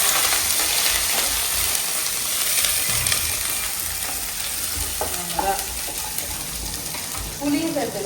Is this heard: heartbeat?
no